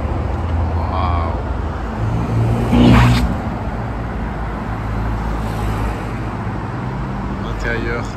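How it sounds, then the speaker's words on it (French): A Rolls-Royce Spectre drives by on a Monaco street, its quiet electric hum swelling briefly as it passes nearby, set against low steady traffic noise with a voice talking at the start. "Regardez la Rolls-Royce Spectre. C'est la première fois que j'en vois une rouler."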